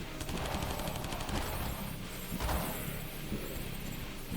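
Rapid gunfire from a fast-firing spread-shot weapon in Call of Duty Zombies, played in third person, rattling continuously at steady loudness with dense game effects behind it and no voices.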